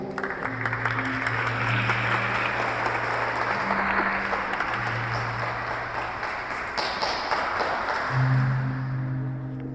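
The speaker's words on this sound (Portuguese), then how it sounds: "Então aplauda a palavra do nosso Senhor." A church congregation at a youth vigil claps steadily for about ten seconds, a dense, even roar of applause with a few bright ringing tones and a low held note underneath.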